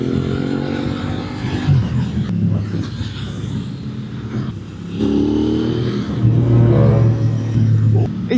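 A Yamaha MT-09 SP motorcycle revving in Paris traffic, its engine note rising and falling in loud surges with a deep, throaty drone, close by and without talk.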